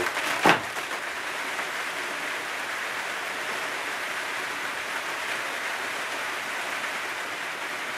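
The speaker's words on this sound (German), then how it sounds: "Hat immer noch nicht aufgehört zu, zu regnen." Rain falls outside as a steady, even wash of soft noise, with a brief knock near the start and no talking.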